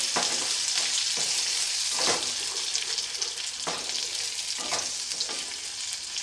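Jackfruit halwa stirred in hot ghee over a low flame, a steady sizzle with repeated scraping stir strokes sweeping through the pan roughly every second, close and fairly loud, with no talking.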